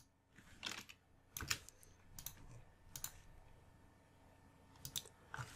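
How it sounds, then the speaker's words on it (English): Quiet keystrokes on a computer keyboard come in a few short clusters of clicks separated by pauses, close and soft, with no talking. "So I'm going to type 20."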